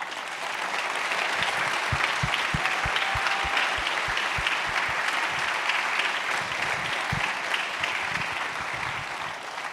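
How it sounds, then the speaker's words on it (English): A room full of people applauds veterans at a Medal of Honor leadership forum, a sustained even patter of many hands with a few sharper nearby claps standing out. "Please stand for a round of applause."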